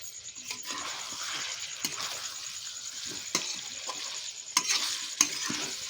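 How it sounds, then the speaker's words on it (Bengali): Chicken in yogurt sizzles in a frying pan over a low flame while a utensil stirs and mixes it, with a steady hiss under repeated wet scrapes and occasional sharper knocks. "এবার এটাকে আমরা খুব ভালো করে আবার মাখিয়ে নেব একসাথে।"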